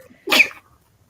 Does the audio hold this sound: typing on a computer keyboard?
no